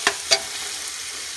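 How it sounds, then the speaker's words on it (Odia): Mutton frying in spiced oil for a curry, with two sharp stirring scrapes near the start followed by a soft, steady sizzle. "ମୁଁ ଏଠି ମଟନ୍ ପକାଇକି କଷିବା ଷ୍ଟାର୍ଟ କରିସାରିଲେଣି।"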